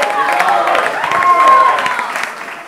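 Audience applause and crowd noise at a live talk event, a loud blended wash of clapping and murmuring voices with a faint whistle-like tone, fading slightly toward the end.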